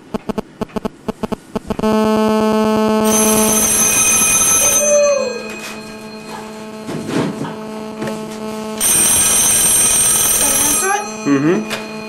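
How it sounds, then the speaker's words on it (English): An old black Telegrafverket telephone rings with a loud electric bell in two long bursts, close by. A steady hum and clicking come before the ringing, and a voice talks briefly between the rings. "I'm going to call Alexander on the black phone over there from my cell phone"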